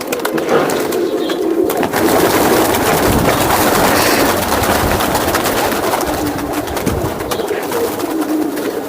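Kaldom pigeons at a large farm of about 300 pairs coo continuously in a dense chorus, loud and close, with steady flock murmuring throughout.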